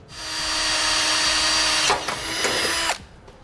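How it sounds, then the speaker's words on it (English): A small bit on a power drill whines steadily while boring a hole during a trailer brake controller install in a 2016 Ford Transit T350, loud and close, pitch dipping under load before stopping. "Now we'll take a small drill bit, line up where we made our marks, and drill a hole."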